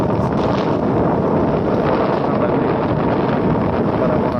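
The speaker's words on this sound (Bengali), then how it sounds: "শীতল বাতাস শীতল একটা বাতাস" A cool sea breeze at Patenga beach rushes steadily across the microphone in a continuous, loud, low roar.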